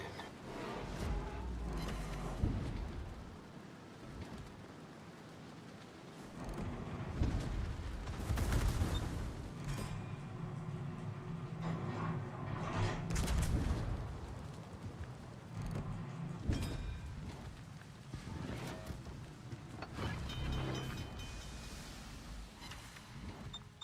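Naval gunfire in World of Warships: heavy booming salvos and bursts of shots roll over a continuous low rumble, loud and repeated throughout.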